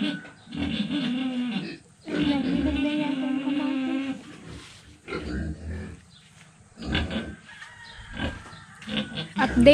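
A roughly three-month-old pig on a rural farm grunts and oinks in several loud bursts, with pauses between them, close to the listener.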